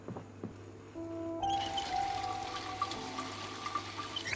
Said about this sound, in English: let's go fill up that water bottle